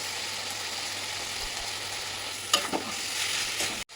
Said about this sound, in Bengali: তো এটা কিছুক্ষণ ভাজা হবে